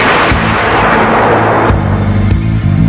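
A test firing of an experimental Army air-bursting explosive round: loud, continuous booming rumble with sharp blast transients near the middle and end, no voices.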